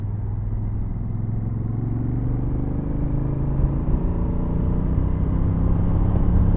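A brand new Honda CRF1000 Africa Twin motorcycle drones steadily while riding, its engine rumble and wind noise heard from the rider's position, pitch gently rising as it gains speed.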